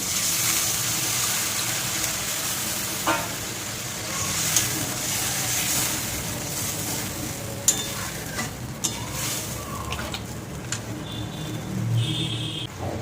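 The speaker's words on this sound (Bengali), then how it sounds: "এবার দিয়ে দেবো জল, জল।" Water poured into a pot of boal fish curry with sautéed potatoes, a steady rushing gush and sizzle over a hot pan, with clinks and scrapes as it's stirred, fairly loud and without talk.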